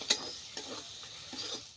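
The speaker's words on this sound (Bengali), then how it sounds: "এবার তোকে ভালো মতন কষাতে হবে।" Chicken curry being sautéed over low heat in a kadai, a few soft scraping stir strokes over a faint, quiet sizzle close by.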